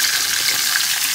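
Meat with a stock cube and spices sizzling in a covered frying pan, a steady close hiss of frying with no other sounds.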